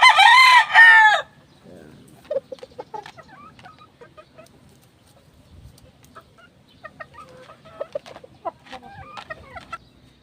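A fighting rooster crows loudly and close at the start, then soft clucks and scattered farmyard noises follow at a quieter level.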